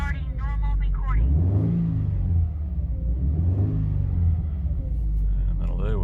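Subaru BRZ engine revved up to about 3,000 rpm, a steady loud rumble that swells and eases across the clip, with brief talk near the start.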